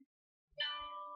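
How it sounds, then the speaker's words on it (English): A mobile phone rings with a single short, bright electronic chime that rings on briefly after a moment of silence, faint and alone. "Sorry about my phone ringing."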